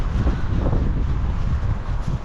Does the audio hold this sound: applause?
no